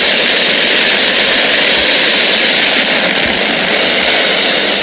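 A deafening, continuous jet engine roar, a steady broadband blast at full power with no pauses or voices.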